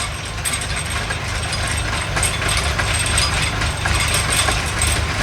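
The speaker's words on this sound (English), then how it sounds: "The sound of the mixer." A concrete mixer running outdoors beside an engine during a stile build, a loud steady mechanical churning and rattling drone with repetitive clanking, no talk.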